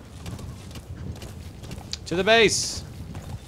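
D-Horse galloping in Metal Gear Solid V: The Phantom Pain, with steady hoofbeats running under a man's speech and a brief, loud rising whinny-like call near the end.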